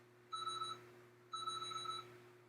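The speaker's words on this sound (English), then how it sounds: "The double beep. Everybody loves the double beep. So, the double beep means that you are done." A workout timer gives a clean electronic double beep marking the end of a session, two short matching tones close together in otherwise quiet surroundings.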